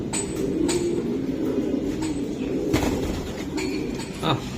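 Red checker male racing pigeon cooing softly at a bird market, the low coos repeating under steady background noise and brief bird sounds.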